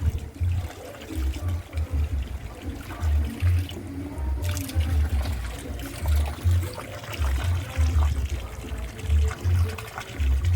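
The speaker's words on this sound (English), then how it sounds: "Why you not leave the hose in the pool" Water from a garden hose pouring into a swimming pool on a vacation day, a steady splashing trickle heard close amid outdoor background noise and low rumbling, without clear talk.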